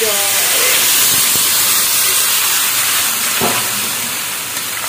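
Fish fries in hot oil with green chillies, giving a loud, continuous hiss that fills the whole moment, with a faint voice briefly underneath at the start.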